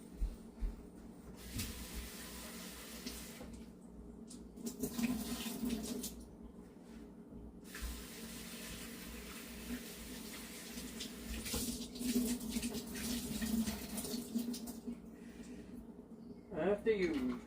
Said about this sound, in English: You gotta wash it, rinse it out a little bit, clean it up, because you never know.